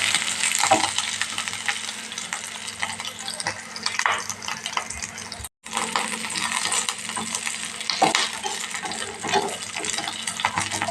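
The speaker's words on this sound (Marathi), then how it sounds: "ह्या हिरव्या मिरच्या थोडं फ्राय होऊ द्यायचं आहे" Green chillies frying in hot oil in a pan while making khaman dhokla tempering, a steady close sizzle with light stirring scrapes and one brief dropout.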